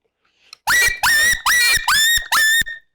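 Five rapid high yelps from an open reed predator call imitating a puppy in distress, loud and near, evenly spaced in a steady pleading rhythm.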